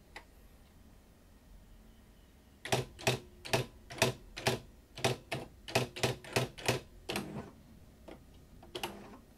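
An electronic daisy wheel typewriter printing bold text, fired off as a quick run of about fifteen sharp, close, rhythmic strikes after a quiet pause, with one last strike trailing off.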